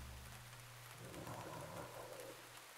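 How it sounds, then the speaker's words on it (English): Steady rain falls in the horror video game Mouthwashing, with a low thunder rumble and drone beneath it, all fairly faint and unbroken. "Is that rain?"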